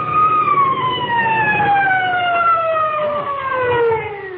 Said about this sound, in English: I can still hear them sirens. Listen.